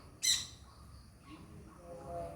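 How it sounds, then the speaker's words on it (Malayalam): A bird gives one sharp, loud squawk near the start, followed by fainter thin chirps, heard fairly close in a quiet outdoor setting. "ഇനി കിളി വന്ന് കിളി വരുന്നുണ്ട് കിളി വരുന്നുണ്ട്"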